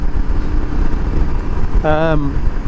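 Honda CB500X motorcycle taken slowly around a corner on a brand-new tyre, with a steady low engine rumble throughout and a brief voice-like tonal sound near the end.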